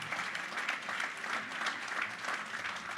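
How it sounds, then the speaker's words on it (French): Steady applause from a seated audience at a corporate leadership seminar award ceremony, a continuous even patter of many hands lasting throughout without voices. "On peut encore une fois les applaudir."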